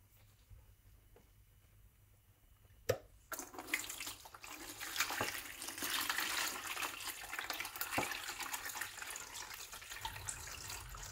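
Water drained from a tank during servicing, running in a steady rushing flow after a sharp knock, continuing with splashing and gurgling at close range.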